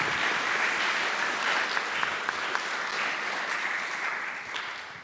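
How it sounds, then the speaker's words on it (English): An audience at a university student founder showcase applauds a speaker, dense moderate clapping from a hall, steady throughout with a few sharper claps standing out before easing slightly at the end. "Can we give Jane a lovely round of applause,"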